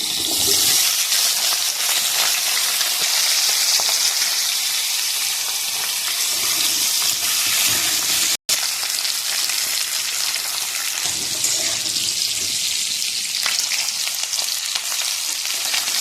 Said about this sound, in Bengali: মাছ ভাজা হয়ে গেছে, নামিয়ে নেব